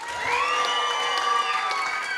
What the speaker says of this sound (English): And keep that applause going for Matthew Lloyd.